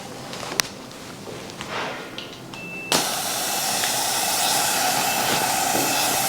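Steady loud hiss of air rushing into an AF2100 air-fed respirator mask, starting abruptly partway through after a few faint clicks and continuing evenly to the end.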